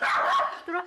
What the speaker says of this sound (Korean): 문제는 수강생들에게도 한없이 짖는다는 것인데요